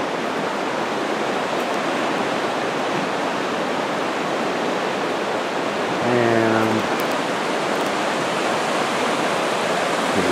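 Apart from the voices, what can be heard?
river flowing in a forest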